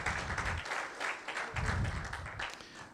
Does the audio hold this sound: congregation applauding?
yes